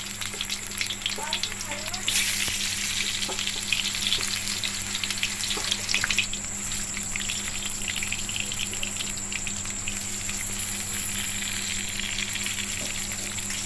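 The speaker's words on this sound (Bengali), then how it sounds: "তেলটা গরম করে আমি আলুগুলো ভেজে নেব" Sliced potatoes fry in hot oil in a kadai with a loud, continuous sizzle that swells for a few seconds before settling into an even crackling hiss.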